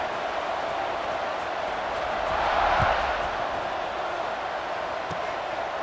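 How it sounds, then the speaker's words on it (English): Football stadium crowd at a close fourth-quarter college game buzzing after a score, a steady broad roar of many voices that swells briefly midway before settling back. "this crowd is buzzing after that last score"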